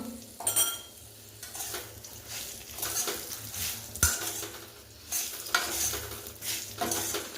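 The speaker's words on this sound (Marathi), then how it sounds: "आणि हे परतून घ्यायचं" Spice paste is stirred into cut green chillies in a pan, with a spoon scraping and clinking against the metal in uneven strokes over a soft sizzle, close and moderately quiet, with no voices.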